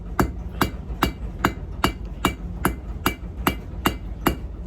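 Hammer forging a skinny taper on steel stock for riveted tongs, a close, steady run of about a dozen sharp ringing blows at an even rhythm, about one every half second, no talk.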